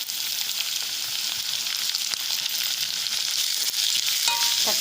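Onions and tomato sautéing in a pan for a stuffed egg masala filling, a steady loud sizzle and hiss close by with occasional scrapes of a spatula near the end, no voices.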